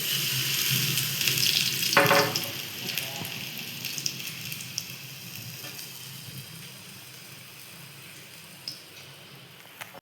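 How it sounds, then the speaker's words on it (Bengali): Bitter gourds stuffed with a shrimp filling drop into hot oil and sizzle close by, with a burst of crackling followed by a steady fizzing fry and a few scattered pops under a speaking voice. "এদিকে তেলটা গরম বসিয়েছি, ওই তেলের মধ্যে একটা ছেড়ে দেবো, এরকম করে একটা একটা করে ছেড়ে দেবো।"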